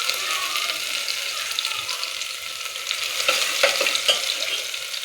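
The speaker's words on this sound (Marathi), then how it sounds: "तेल मस्तपैकी गरम झाले. मग मी त्यात मोहरी आणि जिरं टाकले. नंतर टाकायचा लसूण" Mustard seeds, cumin and garlic frying in hot oil, a steady close sizzle with dense crackling and a few sharper pops near the end, no voices.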